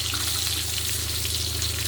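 Salted, turmeric-coated potato pieces frying in oil until reddish make an even, continuous sizzle close by, with a low steady hum underneath and no voices.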